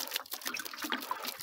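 Seawater is poured onto garden soil in a squash bed, a brief soft trickling splash of liquid, faint and close, with no talking.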